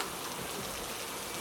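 Steady rain falling outdoors at a geodesic dome in Vagamon, Kerala, a dense, even hiss of drops filling the short stretch with no pauses.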